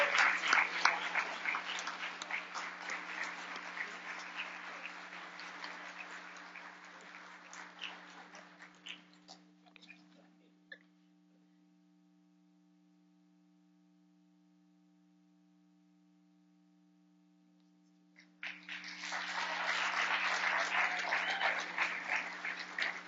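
Indoor audience at a fall university alumni awards ceremony claps steadily for an award recipient, then falls silent apart from a low electrical hum, and the applause swells again near the end.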